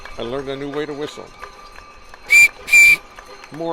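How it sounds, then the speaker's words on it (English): A man whistles two sustained high notes with more air and a wider lip shape, each a bright steady tone lasting under half a second, with speech before and after. "Oh boy, I learned a new way to whistle."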